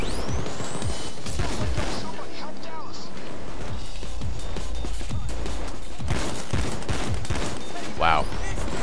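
Spaz shotgun gunfire in the video game Payday 2, a rapid string of loud blasts and impacts mixed with crashes and chaotic game effects, with a voice talking over the action.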